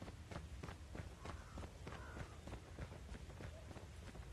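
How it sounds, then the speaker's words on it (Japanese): Rapid footsteps of a soldier running in the Call of Duty Mobile video game, a steady string of close, crisp thuds with faint gunfire-like clicks and game ambience underneath, no voices. "すっげえ足音するな"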